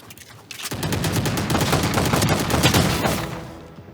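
Rapid, loud pistol gunfire from the video game Team Fortress 2 rattles in a continuous burst of sharp shots for several seconds, with no speech.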